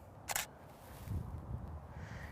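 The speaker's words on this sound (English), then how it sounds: "So now I'm gonna take another test shot." A camera shutter snaps once for a test shot with the lens opened to f4.0 at 1/250th, a crisp single click followed by a quiet room.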